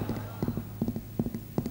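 Two fingers tapped to imitate a single horse's hoofbeats, a steady clip-clop of paired knocks repeating about every 0.4 seconds, fairly close and moderately loud with no talk over it.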